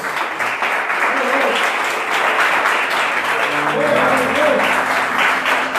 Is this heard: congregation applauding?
yes